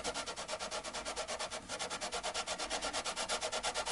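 Sandpaper rubbed back and forth across the frets of an unbranded Telecaster guitar, a quick steady rhythm of raspy scrubbing strokes, close and fairly quiet, heard alone.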